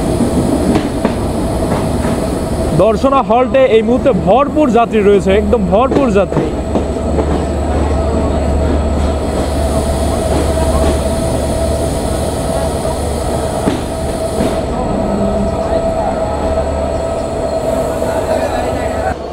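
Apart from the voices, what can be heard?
Simanta Express night train at Darshana Halt station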